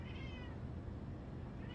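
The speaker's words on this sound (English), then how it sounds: "That is my cat. She's so loud right now behind me." A domestic cat meows loudly in a room, with one drawn-out cry at the start and another beginning at the end, and no talking over it.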